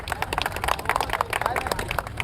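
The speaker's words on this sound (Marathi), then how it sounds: "सगळ्यांनी टाळ्या वाजवा" A crowd claps at an outdoor rally as a march leader is introduced, giving dense, continuous, uneven hand-claps close by, mixed with murmuring voices and chatter throughout.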